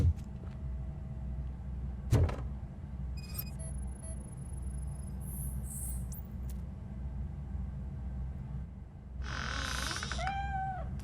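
In RoboCop: Rogue City, a cat lets out a short rising meow near the end after a quiet stretch, with a few clicks and thumps and faint high electronic tones earlier over a low ambient hum.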